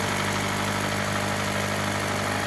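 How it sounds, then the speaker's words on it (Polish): A car engine, run with the gearbox removed, idles steadily on its own, a continuous mid-pitched rumble with a fine rhythmic vibration, close and fairly loud throughout. "chciałem Wam pokazać jak pracuje silnik bez skrzyni biegu"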